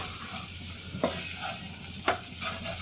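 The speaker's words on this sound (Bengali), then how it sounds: "এভাবে নেড়ে চেড়ে 2 থেকে 3 মিনিটের মতো মিডিয়াম হাই হিটে এটাকে আমি ভেজে নিচ্ছি" Bitter gourd, onion and spices stir-fry over medium-high heat with a soft, steady sizzle. Two sharp spatula scrapes against the pan stand out, close up and with no speech.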